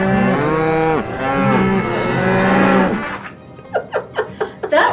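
Cows moo in a long, loud chorus of overlapping lowing calls, then short bursts of laughter follow after the mooing stops.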